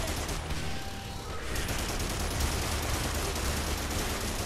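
Sustained, dense machine gun fire in Primal Carnage rattles on without a break, loud and close, with a faint mechanical clatter under it and no talking.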